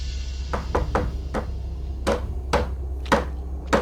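Sharp knocks on a door, a quick cluster of four followed by a pause and four more, fairly close over a steady low hum.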